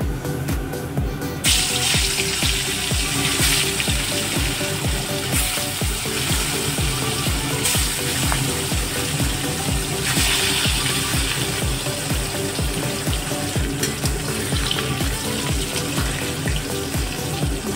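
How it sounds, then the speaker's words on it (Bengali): Salted, turmeric-coated rupchanda fish fries in hot oil, giving a loud, steady, crackling sizzle that runs unbroken and close throughout, with no voices. "মাছটা নুন হলুদ মাখিয়ে নিয়েছি, তেলটা গরম হয়ে গেছে।"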